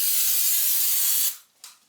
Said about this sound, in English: cleaning, spraying out the sensors.